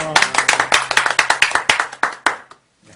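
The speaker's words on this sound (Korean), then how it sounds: "우리 서로를 격려하며 박수하겠습니다" Group of people clapping in encouragement at a church youth lecture, a steady burst of many hands applauding for about two and a half seconds before fading to quiet.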